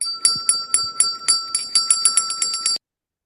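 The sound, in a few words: bell sound effect played over Zoom to signal time is up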